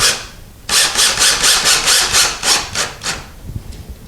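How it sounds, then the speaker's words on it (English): Close, loud rhythmic rasping as a cleat screw for a towel bar is driven into a wall, about ten regular strokes of turning after a short pause, then fading into lighter scrapes. "we're just going to screw it in just till it touches"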